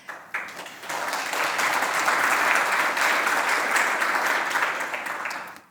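An audience breaks into applause at a talk on climate change, a few early claps swelling quickly into sustained, dense clapping that holds steady and loud before tapering slightly at the end.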